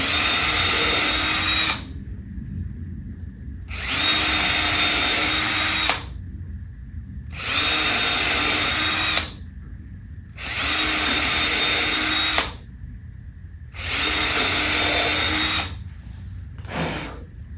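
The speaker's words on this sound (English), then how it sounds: "You always want to pre-drill." A power drill whirs loudly in repeated bursts of about two seconds, pre-drilling screw holes in a large wooden pedestal table base, pausing briefly between each, with a faint hum in the gaps.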